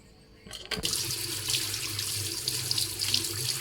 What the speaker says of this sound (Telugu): ఒకసారి మొత్తాన్ని మిక్స్ చేసుకొని వాటర్తో వాష్ చేసుకోవాలి.